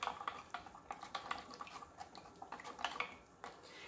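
Melted soap base is stirred in a container with a quiet, rapid series of light scraping and clinking strokes, close and without talk.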